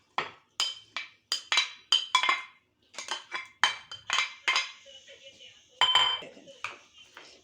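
Fruit chaat and macaroni stirred in a bowl with a spoon, giving a quick run of close, bright clinks and scrapes against the bowl, about a dozen bursts in irregular rhythm, with no voices.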